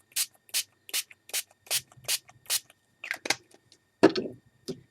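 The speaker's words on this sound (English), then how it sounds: "just spritz lightly with the Starbursts" Starbursts spray ink in cotton candy pink misted from a small pump bottle onto a card in short bursts: about seven evenly spaced, close spritzes, then a few quicker irregular ones, with a louder clatter near the end.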